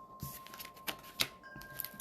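Tarot cards are shuffled by hand in quick, crisp riffling bursts, faint and close, with soft gaps between each flurry.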